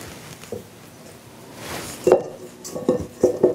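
Cookie dough for chocolate mint pinwheels transferred between mixing bowls, with a few knocks and clinks of a utensil against the bowl that cluster near the end, close and without speech.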